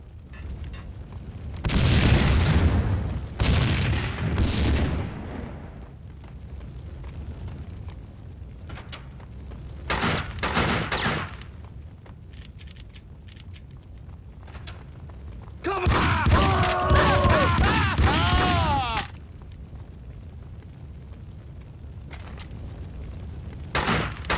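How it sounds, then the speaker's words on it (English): Explosions and gunfire in the PC shooter Max Payne 2, with loud bursts of blasts and shots that come in separate waves between quieter stretches. "Against my better judgment, I had to help the explosions on their way."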